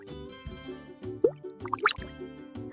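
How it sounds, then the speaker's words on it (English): Cartoonish turtle sound for a guess-the-animal game for kids, a string of wet plopping, dripping pops over a soft repeating musical backing, close and moderately quiet. "It's a turtle."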